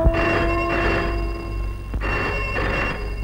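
Telephone ringing at midnight, two bursts of an old-style ringing bell separated by a short pause, fairly clear with no talking.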